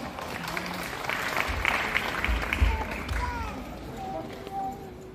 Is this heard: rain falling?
no